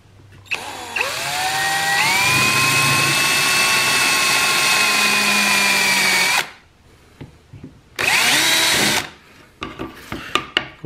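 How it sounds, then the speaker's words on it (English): A power drill with a quarter-inch bit bores through material, motor whining up and holding a steady pitch for several seconds, then stopping, followed by a second shorter burst and some handling clicks, close and loud. "So now we're going to drill four holes and cut out this center."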